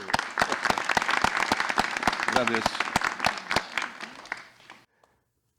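A studio audience gives a poet a burst of clapping, dense and close at first, then thinning and stopping abruptly, with a brief spoken word over it.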